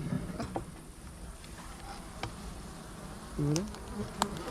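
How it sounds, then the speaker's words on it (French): A low, steady hum of many buzzing dark honeybees at an open beehive fills the background, with occasional louder buzzes from individual bees passing close and a few soft knocks. "c'est de l'abeille assez noire quand même"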